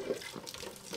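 Hot water runs from a tap in a newly built two-storey house, giving a steady close splashing hiss with small gurgles through the whole moment, and no voices.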